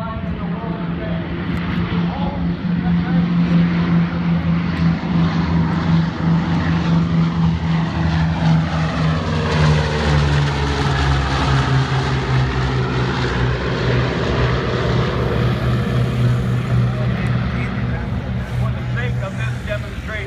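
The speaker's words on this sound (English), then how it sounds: "the only V-29 is on the takeoff roll from low to your right to low to your left" The only flying WWII B-29 bomber roars through its takeoff roll at EAA AirVenture Oshkosh, its propeller engines droning loudly as the pitch slides and shifts while it passes from right to left.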